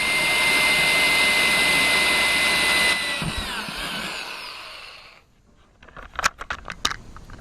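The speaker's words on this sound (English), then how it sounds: "So I need to figure out where I'm going to drill the hole to run everything through." A power drill whines loudly and steadily for several seconds while drilling through a cargo trailer, then winds down, followed by a few scattered clanks and knocks.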